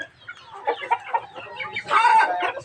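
Chickens cluck in short, uneven bursts close by, ending in a louder, drawn-out squawk.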